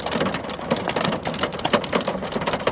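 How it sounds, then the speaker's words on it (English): Hailstorm battering down outside in a dense, irregular patter of hard hits, loud and close, with no voices over it. "I'm in the middle of a hailstorm."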